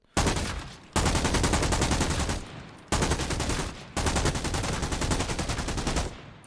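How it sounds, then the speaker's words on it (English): Automatic gunfire in Arena Breakout Infinite: loud, close full-auto bursts of rapid evenly spaced shots, four long bursts separated by short pauses, with no talking. "Let's try this thing in full auto again."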